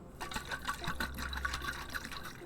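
Water sloshes inside a water bottle as it is pushed, a close, continuous liquid splashing and gurgling with rhythmic surges over about two seconds.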